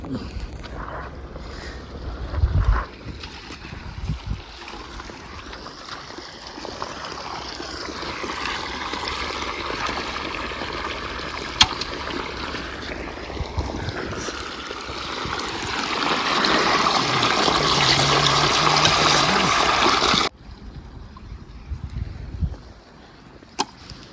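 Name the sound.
water filling a field through a pipe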